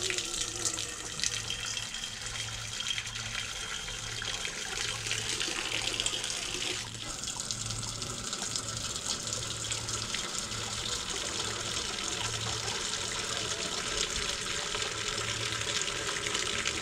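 Water runs steadily from a tap into an animal's water container outdoors at a peacock enclosure, a constant hissing splash that shifts slightly in tone midway and continues without pause.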